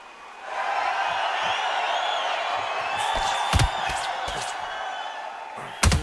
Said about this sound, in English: The crowd here cannot wait. They've been buzzing all day long